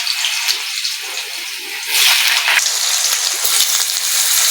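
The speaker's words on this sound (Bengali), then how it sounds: "আলুটা একটু ভেজে নেবো" Cut potato fries in hot oil with nigella seeds, a bright steady hiss that jumps louder about halfway and stays strong, close and unbroken, with no voices.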